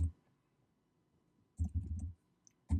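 Quiet computer keyboard typing in two short clusters of soft, close key clicks separated by a near-silent pause, with no talking.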